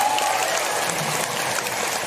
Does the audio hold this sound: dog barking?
no